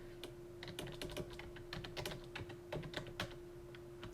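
Fingers type an account number on a computer keyboard, making a quick, irregular patter of close, light key clicks in short bursts with brief pauses between them.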